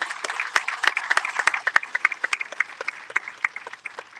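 An audience at the Saint Croix AgFair 2023 gives the Senate President another round of applause: a close, steady patter of many hands with sharp individual claps standing out, alone and without talk.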